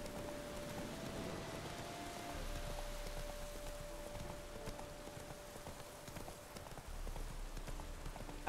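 Roach, the horse in The Witcher 3: Wild Hunt, trots in steady clip-clop hoofbeats at moderate level over a soft rain-like ambient bed, with a faint sustained tone running underneath.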